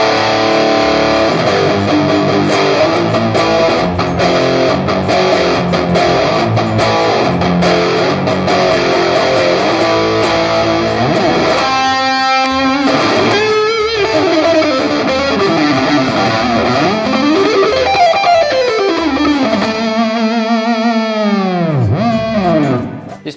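Schecter Hellraiser electric guitar with active EMG pickups played through distortion and effects, dense chugging chords giving way to sustained notes and sweeping pitch bends, loud and continuous with no voice.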